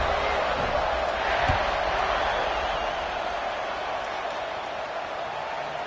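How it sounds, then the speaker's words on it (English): Stadium crowd in the College Football 26 video game, a steady broad roar that holds at an even loudness throughout, with a brief thump partway through. "this crowd is buzzing after that last score"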